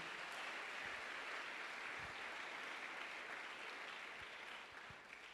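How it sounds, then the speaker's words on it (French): A church congregation applauds a woman who built a robot in Congo, sustained dense clapping heard from a distance that tapers slightly at the end. "Acclamons cette femme-là."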